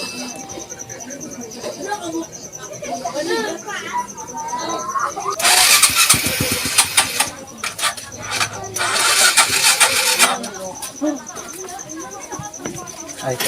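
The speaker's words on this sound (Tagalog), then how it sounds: "lisod kayo paandaron ang motor" A motorcycle struggles to start after its battery was charged: repeated loud cranking bursts, including a long stretch around the middle, with the engine failing to catch, among insect chirps and someone speaking.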